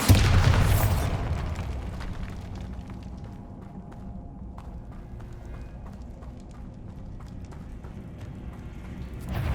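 A Bombarda spell in Hogwarts Legacy bursts with a loud, close explosive boom that quickly decays into quieter rumbling and scattered movement sounds.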